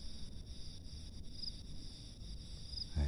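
Field crickets chirp in a rice paddy at night, a steady high-pitched trilling close by with a low rural background hum, and a soft bump of handling at the very end.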